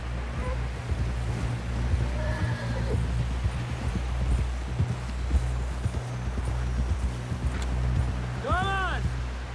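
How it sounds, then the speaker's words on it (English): In the video game Red Dead Redemption 2, a horse whinnies near the end over steady clip-clopping hooves, with background noise and occasional voices. "Someone help John down off this horse"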